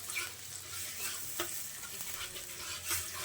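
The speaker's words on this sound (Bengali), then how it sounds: "খুব ভালোভাবে ওলটা এখন আমি কষতে থাকবো মশলার সঙ্গে" Yam (ol) is stirred with spices in a pan, a soft sizzle under repeated scraping and clattering strokes of the spoon, fairly quiet and close.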